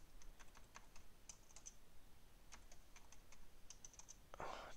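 Faint, scattered keystrokes on a computer keyboard while C# code is written in Unity, quick clusters of light clicks with short pauses between them.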